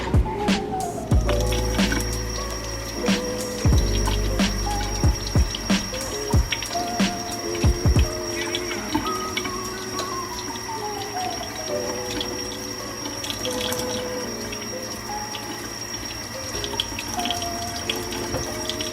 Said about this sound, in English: Now let's take the carrots to the sink for a wash.